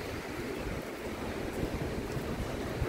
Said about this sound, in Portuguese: O vento tá vindo aqui na minha frente.